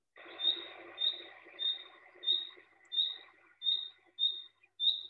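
A common chaffinch in a Greek forest on Lesvos repeats a short, bright call about eight times at a steady, evenly spaced rhythm, clear and fairly close over faint background noise.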